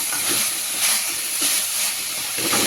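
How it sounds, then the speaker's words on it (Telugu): Coriander tomato chutney frying and thickening in a pan, a loud, steady hissing sizzle with gentle surges as it is stirred, no voices over it. "మీరు కూడా ఇలా బాగా ఫ్రై చేసుకోవాలి, ఇలా దగ్గరికి అయిపోవాలండి."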